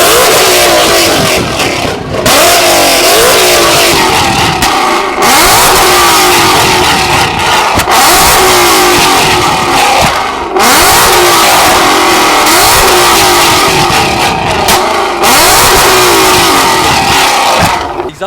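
A car fitted with a Hotlitz exhaust flamethrower kit revs hard and loudly in repeated sustained bursts with short gaps, the close engine roar dominating throughout with no talk.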